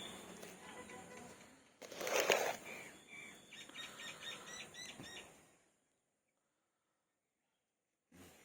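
Sparrows chirp around a tree at the Biraallamma temple in Marripudi, where bundles of paddy grain are tied up. A loud burst of bright chirping gives way to busy twittering, then near silence, with a brief sound at the end.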